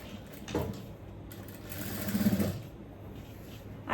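A sewing machine stitches around the collar of an A-line kurti with a front-pleated V collar, running in short bursts of rapid mechanical whirring with brief pauses between them, close and clear.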